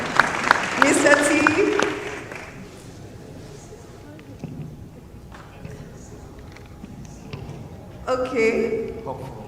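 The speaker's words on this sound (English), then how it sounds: "A round of applause, Mr. T. Daladi." Audience applause at an executive roundtable on Nigeria's budget and economy, a burst of clapping at the start fading under a speaker's voice, then rising again near the end.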